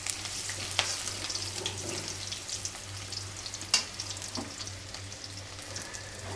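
Curry with turmeric and mixed spice powders fries in hot oil, giving a soft, steady sizzle with occasional stirring scrapes and a low background hum, all faint and close.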